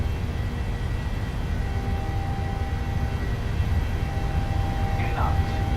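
Steady, loud roar of PMDG 737-700 jet engines spooling at takeoff power in Microsoft Flight Simulator, a continuous broadband rumble holding throughout, with a brief faint voice near the end.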